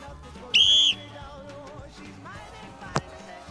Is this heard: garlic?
no